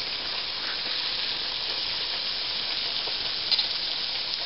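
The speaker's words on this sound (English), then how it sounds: "you can see that the chicken is frying" Steady, loud crackling sizzle of chicken frying in hot oil, a dense hiss with small pops, unbroken throughout.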